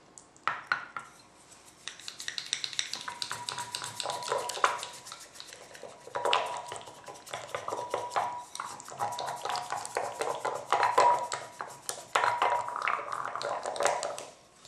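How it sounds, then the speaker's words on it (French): A spoon mixes plain yogurt in a bowl for raita, giving steady scraping and clinking strokes close by that keep up for the whole stretch with short pauses. "Je mélange le yogourt seul."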